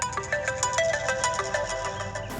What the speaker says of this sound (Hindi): भाई का फोन